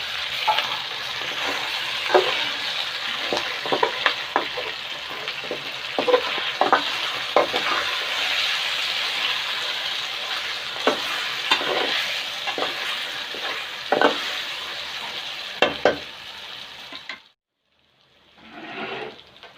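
Cumin is stirred into beef white karahi frying in a pan, producing a continuous sizzle with repeated sharp scrapes and clinks of the spoon. The sound stops abruptly near the end and is followed by a brief, softer splash.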